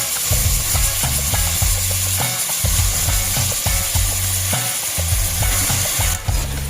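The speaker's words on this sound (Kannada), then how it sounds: "ಎಲ್ಲ ಚಿಕನ್ನ ಹಾಕೊಂಡ ನಂತರ ಚೆನ್ನಾಗಿ ಅದನ್ನ ಮಿಶ್ರಣ ಮಾಡಿಕೊಂಡು ಸ್ವಲ್ಪ ಎಣ್ಣೆನಲ್ಲೇ ಹುರಿಬೇಕು." Chicken pieces sizzle and fry in a little oil in a pressure cooker while being stirred, with steady loud hissing and rhythmic scraping and clinking of a spoon against the pot throughout.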